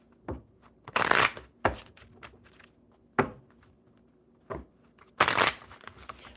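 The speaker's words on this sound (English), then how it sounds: "One more good shuffle." A deck of playing cards being shuffled in repeated bursts of riffling and flicking, with short pauses between, loud and close, no talk.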